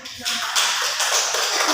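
Children in a school group counselling session on drug dangers break into loud, dense clapping that rises quickly after a brief quiet start and keeps going steadily, with some voices mixed in underneath.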